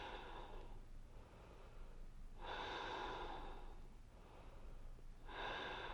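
Slow, deep breaths drawn during a yoga pose, with three long broadband inhale-exhale swells spaced about every three seconds, close and soft, with no talking.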